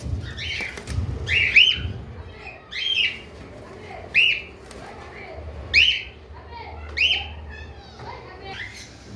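Several bright, piercing cockatiel chirps and squawks come in repeated bursts about every second or so from a nearby cage, over a faint low background rumble.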